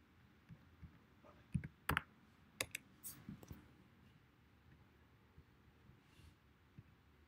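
Quiet typing on a computer keyboard, a few soft irregular clicks in short bursts, faint and close, over low room hum.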